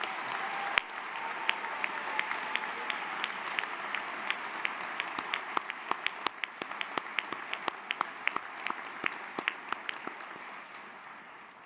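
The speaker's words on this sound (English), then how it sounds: "Please give them all one more big round of applause." Audience applause at a university commencement for master's degree candidates, a steady wash of many hands clapping in a large hall, with a few sharp individual claps standing out and the applause slowly fading.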